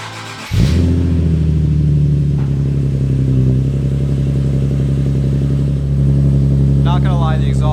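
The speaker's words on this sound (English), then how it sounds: "the exhaust, it's pretty loud" A Nissan 370Z with a loud aftermarket exhaust starts with a burst and settles into a deep, steady rumbling idle-rev that holds loud and close throughout, with a faint rising whine near the end.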